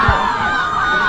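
Spectators at a high school soccer match cheer and shout in a brief, lively burst of crowd noise with whoops mixed in.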